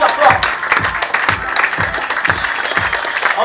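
Loud audience applause at a Cinévox show with some rhythmic clapping, close and full throughout, and a voice briefly audible amid the clapping.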